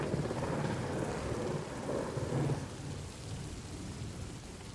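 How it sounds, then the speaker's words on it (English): A storm effect with a steady roar of heavy rain and howling wind fills the whole stretch, with low thunder rumbling beneath and no speech. "Your voice is lost over the howling winds and rain."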